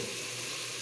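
Chicken frying in a pan gives a dense, steady sizzle, close and unbroken throughout the short moment.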